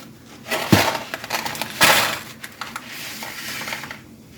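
Dry spaghetti noodles drop into a tall glass with a sharp clattering rattle, followed by a second burst and lighter scattered ticks as the strands settle, close and fairly loud with no talking.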